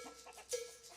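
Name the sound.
chicken clucking on the road in a video game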